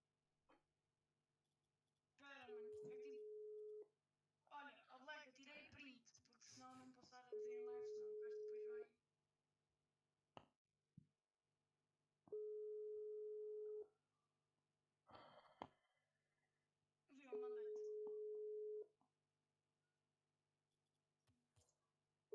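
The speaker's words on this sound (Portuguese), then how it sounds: "Deixa eu ligar ao Palmeiras do Vicente." Telephone ringback tones during a call placed while streaming Fortnite and Rocket League, four long steady beeps spaced evenly apart, with people talking and clicking between them.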